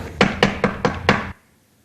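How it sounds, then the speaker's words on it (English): Five loud, evenly spaced knocks on a locked door, sharp and close, followed by sudden quiet. "Knock again if you don't mind"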